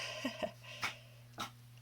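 A pet dog whines in a few short, separate whimpers over a steady low hum, fairly faint and close by, with no talk.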